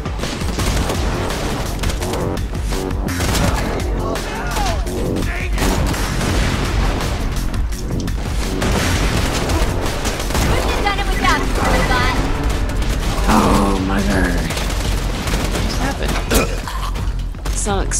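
Dense, continuous Borderlands 2 battle noise with repeated gunfire bursts and booming grenade explosions, loud throughout with no pauses.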